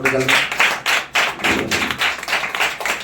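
A church congregation claps together in a quick, steady run of sharp claps that fills about three seconds, with a voice briefly audible at the start.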